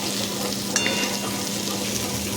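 A pan of fish-head rice and dal simmers and sizzles steadily while being stirred, a close, even crackle with a brief scrape of the spoon, no voices.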